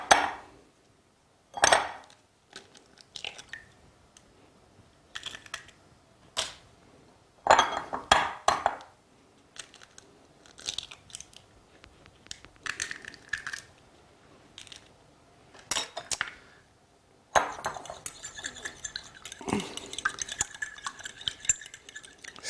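Eggs stirred into a pot of Harira Moroccan soup, intermittent spoon scrapes and clinks against the pot separated by quiet pauses, with a longer run of clattering near the end.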